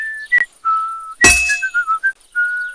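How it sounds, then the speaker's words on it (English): A character in Kingdom Come: Deliverance II whistles a short rhythmic tune in clear, close notes, with one sharp metallic clink partway through and no talking. "Sometimes I'll whistle to myself to keep the rhythm going."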